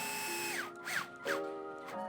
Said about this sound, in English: All right, we're just tightening all 5 screws here.